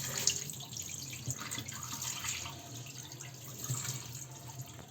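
A kitchen tap runs while raw chicken is washed under it, giving a faint, steady stream of water with small splashes and drips and no talking.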